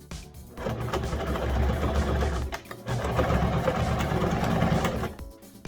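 A sewing machine stitches Velcro in two steady bursts of whirring, close and loud, with a brief pause between them and a short stop at the end.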